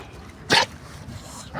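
A dog at a temple gives one short, sharp bark, followed by quieter low rumbling and a second bark starting at the very end.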